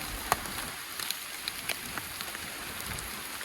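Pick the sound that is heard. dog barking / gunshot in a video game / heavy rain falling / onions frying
heavy rain falling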